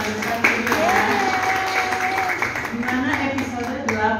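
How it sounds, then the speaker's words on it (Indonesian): Fans at a live series event clap in a sustained round while someone talks and a tonal sound runs underneath. "Kasih tepuk tangan dulu dong buat semua yang hadirkan ini ya."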